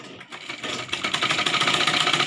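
Sewing machine stitching lehenga strips together, starting with a few hesitant clicks, then running into a fast, steady mechanical whir with rapid needle chatter, close and loud.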